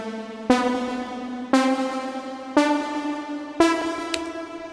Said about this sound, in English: Now there's a little like bass line that's coming on.